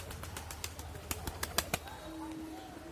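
Pet pigeons flapping their wings in a series of sharp bursts, close by, followed by a soft low cooing near the end.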